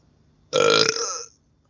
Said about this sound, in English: I had to burp all that energy out of my heart space